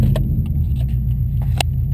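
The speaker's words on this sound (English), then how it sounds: "as you can see, it starts right up and idles perfectly" A Subaru STI, fitted with a factory intercooler sprayer, idles steadily up close with a constant low engine rumble and a few faint clicks and rattles on top.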